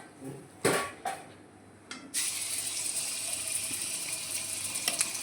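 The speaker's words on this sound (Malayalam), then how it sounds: "എണ്ണ ചൂടായിട്ടുണ്ട് നമുക്ക് ചിക്കൻ വറുക്കാനിടാം" Small chicken pieces dropped into hot oil: a few sharp clatters, then a sudden loud, steady hissing sizzle that carries on with faint crackles.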